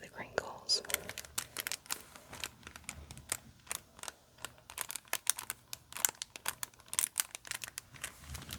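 Plastic wrapping on a Nintendo Switch game case crinkling softly and close, with irregular rustles and small taps, quiet and intimate, under occasional whispering.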